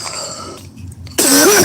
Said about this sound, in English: I haven't coughed like that since I hit the bong